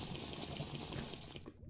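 Liquid pours and sloshes steadily as a cold bottle of water is drunk in a lava-filled cave video game, a continuous close wet rush that thins out at the very end, with no talking.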